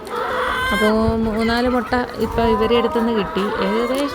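Several chickens cluck and squawk close by in busy, overlapping bursts while a person talks over them.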